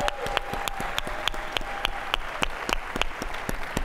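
Steady audience applause at a tech conference's welcome session, a thin crowd clapping with distinct individual claps that carry evenly through the whole stretch without voices.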